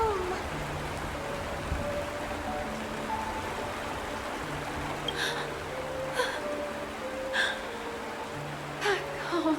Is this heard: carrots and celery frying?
no